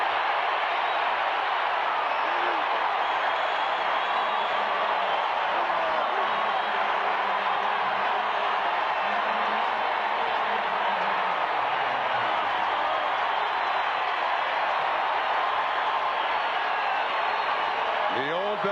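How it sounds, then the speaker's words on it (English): Stadium crowd roaring after Karl Mecklenburg's third-down sack at a 1994 Raiders at Broncos football game in Denver, a steady, loud wash of massed cheering sustained throughout with a commentator's voice faintly underneath. "Down he goes, and listen to this crowd"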